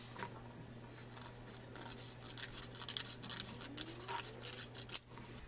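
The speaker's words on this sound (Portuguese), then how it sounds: "E começo a cortar." Paper for a formal wedding invitation is cut against a set square: a steady run of soft, close scraping and snipping strokes at a quiet level over a low constant hum, with no voices.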